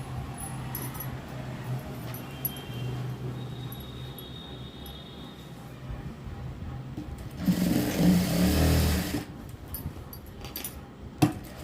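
Sewing machine stitching back-side tucks on a blouse, with faint intermittent whirring and a louder burst of stitching near the end, alone without talk.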